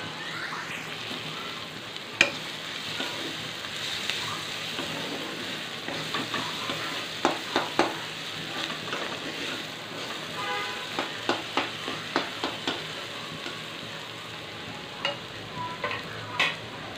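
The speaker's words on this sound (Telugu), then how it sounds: "కొంచెం బాగా వేగాలండి" Onions frying in oil while being stirred, a steady soft sizzle with intermittent scraping and tapping of a spoon against the pan, close and moderately quiet with no talking.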